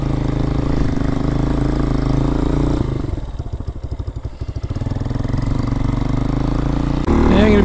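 A 2023 Hawk-X 250 motorcycle engine idles while warming up, a loud close steady thrum that dips into slower pulsing mid-clip and then picks back up.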